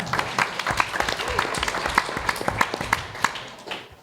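Applause fills a room at a venture capital panel event, scattered and uneven at first, with distinct close claps standing out before it tapers off at the end, and some voices underneath.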